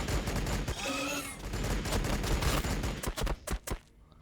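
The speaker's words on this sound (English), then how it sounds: "Firing grenade volley" Grenade volley from a unit in the Warhammer 40k Battlesector video game: a dense barrage of overlapping blasts, then several sharp separate bangs that trail off into quiet near the end.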